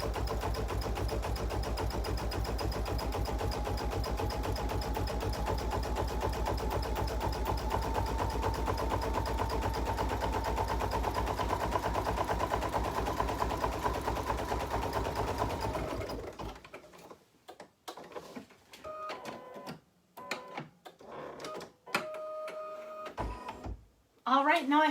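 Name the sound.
computerized embroidery machine stitching a satin stitch border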